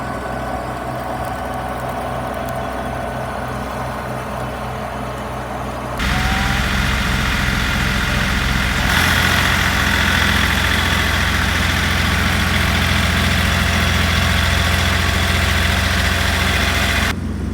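Kubota and Arbos 2025 tractors idle together with a steady low engine drone, which grows louder and fuller partway through and then holds constant without talk.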